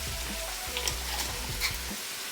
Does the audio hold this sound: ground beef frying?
yes